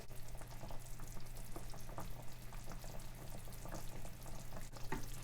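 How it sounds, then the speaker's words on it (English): Braised pork belly liquid boiling and simmering uncovered in a pot, a steady close bubbling and faint sizzle throughout, with occasional small stirring clicks. "I will actually bring it to boil and simmer uncovered."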